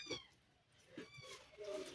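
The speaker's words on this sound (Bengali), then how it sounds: "ছোট বিড়াল।" A small cat or kitten gives a few short, faint meows spaced about a second apart, fairly close in a quiet room, with no talking.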